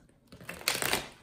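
A brief, soft riffle of tarot cards being shuffled, a quick papery flutter heard up close and alone.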